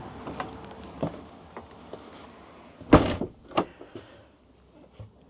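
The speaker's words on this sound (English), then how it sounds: "if you put your thumb at the top and pull at the bottom, twist your hand, it gives you a better leverage to open the door easier" Door being opened inside a 2025 Hymer B Class Modern Comfort I600 motorhome, a series of quiet clicks and handle rattles leading to a louder latch thunk and a couple of softer knocks afterward.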